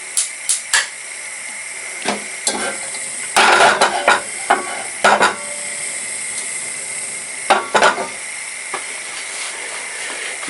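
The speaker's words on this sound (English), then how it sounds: "You get your pan and you put a bit of oil in." Oil heating in a pan for cooking rice, a steady close hiss punctuated by several sharp spits and crackles at irregular intervals.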